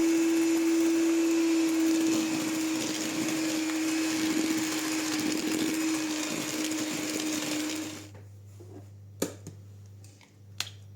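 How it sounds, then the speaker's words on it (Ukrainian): An electric mixer beats butter with sugar and vanilla sugar for chocolate and orange crinkle cookie dough. It gives a loud, steady whirring drone for about eight seconds, then stops, leaving a few sharp clicks. "Далі поступово всипаю цукор та ванільний цукор і продовжую збивати."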